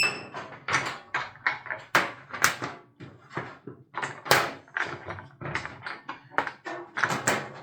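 Sheet metal for mini-split ductwork is worked on a 3-foot brake while forming a hem and flange, producing a quick series of sharp metallic clanks and taps in an irregular rhythm, close and fairly loud.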